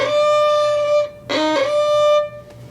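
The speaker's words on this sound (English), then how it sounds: "the dreaded bow squeak is basically when the violin accidentally does something like this" Violin bow squeak, a bright sustained whistling tone with strong overtones that breaks off, then returns as a harsher, broken screech, close and alone.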